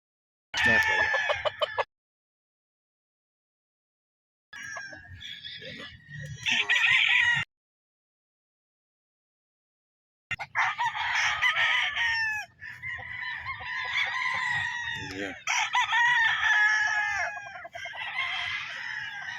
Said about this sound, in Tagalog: Dami manok na